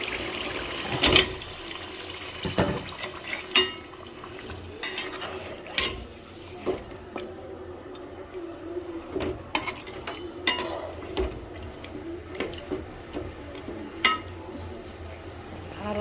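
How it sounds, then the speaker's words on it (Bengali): Chicken pieces tipped into a pan of oily, fried-down spiced masala for a home chicken curry, then stirred: scattered scraping and clattering of a spoon against the pan over a low sizzle, with a few louder knocks. "আমি এখন চিকেনগুলো ঢেলে দেবো"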